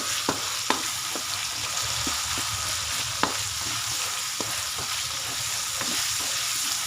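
Pork adobo with crushed black pepper and soy sauce bubbles in a pan, a steady close sizzle broken by scattered sharp stirring clicks and pops throughout.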